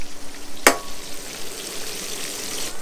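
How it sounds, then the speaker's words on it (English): Steady hiss and crackle of hogfish frying in a hot pan up close, with a single sharp clink of a utensil early on. "We're frying some fish, cooking out."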